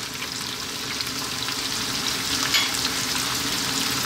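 Carrots sautéing in a soup pot, salted and peppered, give a steady close sizzle and crackle that holds evenly throughout, with faint stirring underneath and no voices.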